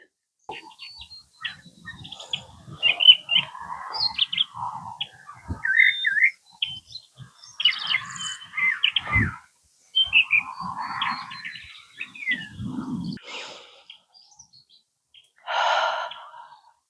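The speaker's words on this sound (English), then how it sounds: "wonderful with the birds chirping and the breeze blowing and these gorgeous clouds" Birds chirp and whistle outdoors during a walk with a light breeze, the calls varying from soft to fairly clear, mostly without talk.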